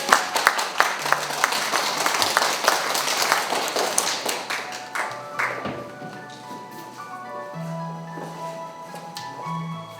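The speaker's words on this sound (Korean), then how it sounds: "박수로 맞아주십시오" At a poetry talk show, the audience claps to welcome a poet and professor: lively, close applause with sharp individual claps that thins out and fades after about five seconds, leaving low hum and tonal background sounds.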